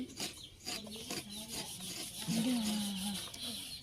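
Scraping by hand in a rural Thai kitchen setting, heard as a series of short rough rasping strokes at a moderate distance, with a faint bird or rooster call in the background and no speech.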